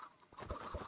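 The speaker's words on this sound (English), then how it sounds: "A chicken just died in the wall." A chicken suffocating inside a wall in Minecraft gives off short, stuttering hurt clucks in quick succession, up close and unaccompanied, with a low thump pulsing under each one.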